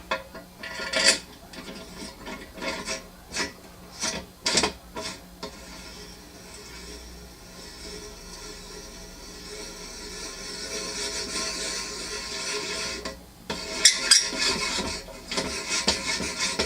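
A 10 by 1.5 threading tap cuts threads in metal latch holes on a Harbor Freight paint pressure tank, giving scattered rasping, scraping strokes and clicks of varying loudness at close range, with no talking.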